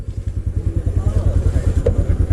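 A motorcycle rides along a road near Madhupur, its engine giving a loud, steady, pulsing drone from start to finish.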